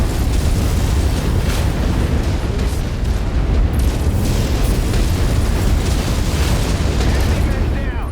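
MechWarrior 5: Mercenaries battle: loud, continuous weapon fire and rumbling explosions pile into a dense, booming wall of noise that runs through the whole stretch.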